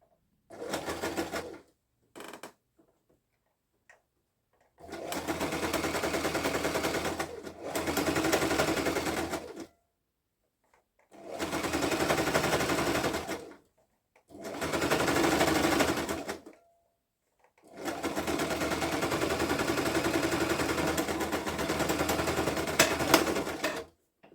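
A sewing machine joins pieces of blanket fabric in long bursts of rapid, buzzing stitching, separated by short silent pauses, close and steady, with no talking.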